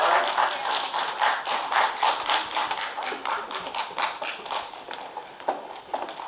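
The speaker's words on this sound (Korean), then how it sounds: "자, 이제 박수로 환영해 주시면 감사하겠습니다" A press-conference audience welcomes a film's director and actors with applause, a dense spell of hand clapping, close and fairly loud, with uneven rhythm and slight swells and dips.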